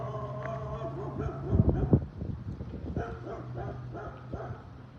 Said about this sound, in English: Not because the dog is barking at me